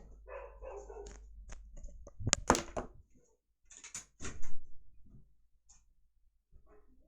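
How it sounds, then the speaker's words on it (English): A pet dog barks indoors in a few sharp, loud bursts clustered together, followed by a couple of fainter, more distant yaps after a pause. "I'm gonna make my dog shut up because he's barking like crazy"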